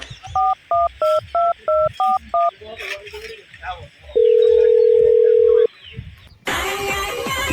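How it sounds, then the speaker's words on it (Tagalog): A phone number is keyed in as seven evenly spaced touch-tone beeps, then a steady dial or ringback tone sounds for over a second, followed by a burst of broadband noise, with faint voices underneath. "Ako tawagan si Ron."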